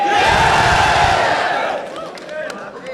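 A large crowd at a rap battle event in Cebu roars and shouts loudly and continuously, swelling under an announcer's voice before tapering off into scattered whoops.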